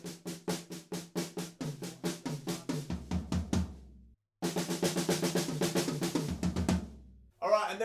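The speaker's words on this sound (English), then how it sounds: "we're going from the snare drum, and then we kind of move it around the toms" Slow triplet drum fill in 6/8, moving from the snare drum around the toms in even descending strikes, loud and close, repeated twice with a brief pause between, then a cymbal crash.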